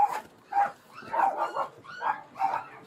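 Several dogs barking inside a house, about six close, mid-loud barks and yips coming in an uneven rhythm.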